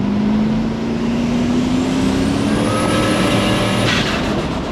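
A custom-built ute cruises along with a steady engine drone and road noise, its tone rising gently as it accelerates, loud and close throughout with no talking.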